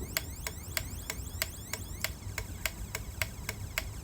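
Electronic motorbike alarm on a Senke X6 sounding in sharp, evenly spaced chirps, about three per second, fairly loud and close over a low engine-like rumble.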